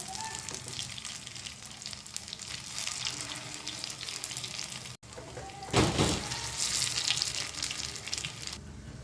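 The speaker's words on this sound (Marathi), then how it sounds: "दुसऱ्या बाजूने आपल्याला हे छान शालो फ्राय करून घ्यायचे आहेत." Potato fasting patties shallow frying in an oil-filled pan, giving a steady close sizzle and crackle throughout, swelling louder for a moment partway through with no talking.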